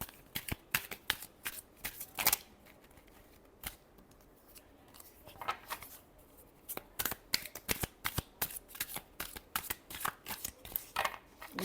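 Tarot cards being shuffled in rapid bursts of crisp riffling and flicking, quiet and close, with short pauses between runs and no talking.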